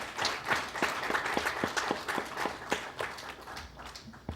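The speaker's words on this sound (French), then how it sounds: "Et je vous demande d'applaudir les présidents des deux assemblées qui ont pris l'initiative." Faint, steady clapping from an audience at a Chamber of Deputies ceremony, applauding the presidents of the two assemblies; the claps fall in a loose, regular rhythm.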